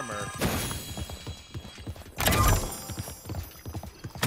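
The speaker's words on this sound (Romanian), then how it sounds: "A, am și eu cal." Horse galloping in the video game Realm Royale, a quick clip-clop rhythm of hoofbeats close by with a louder thud partway through, mostly alone with little talk.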